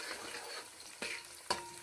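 Green chillies frying in hot oil in a pan for Telangana-style fish curry, giving a steady close sizzle with two sharper stirring clatters partway through, no voices.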